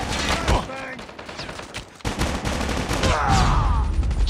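Rapid gunfire bursts in a Call of Duty Mobile match, loud and close, with overlapping automatic volleys and single cracks that build into dense, continuous shooting toward the end.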